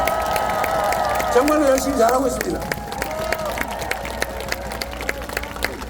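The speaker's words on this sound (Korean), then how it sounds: "자 우리 세 분 국회의원께 박수 한번 부탁드립니다." At an outdoor presidential campaign rally in Ilsan, a large crowd claps in a dense, steady patter beneath an amplified voice speaking over a loudspeaker. The sound is moderately distant and fills the open air.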